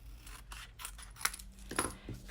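Scissors trim down a paper gift tag, a few short crisp snips and paper rustles in quick succession, close and quiet with no talking.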